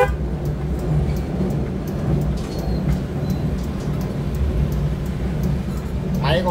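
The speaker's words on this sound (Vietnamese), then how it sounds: "Máy con này êm như xe con luôn." A 1997 Suzuki vehicle's engine idles steadily with a low, even rumble, smooth and fairly quiet throughout, with no speech.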